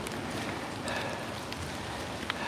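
Light, warm drizzle falling on a street, heard as a steady, even hiss of rain with scattered faint drop ticks throughout, no voices over it.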